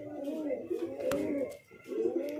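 Fancy pigeons in a loft coo in soft, low, rolling phrases close by, with a brief pause in the middle and faint voices in the background.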